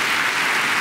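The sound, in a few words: audience applause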